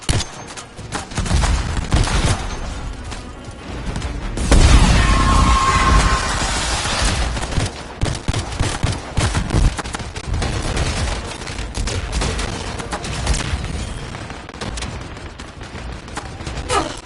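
Sustained turret gunfire rattles through a camp battle in the video game Anthem, loud and dense for the full stretch, with a heavier burst of blasts in the middle and no talk over it.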